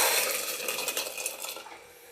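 Tempering being stirred into a pot of bisi bele bath with cooked vegetables and lentils: bright metallic scraping and clinking of a spoon against the pot, fairly close and loud, then easing off toward the end.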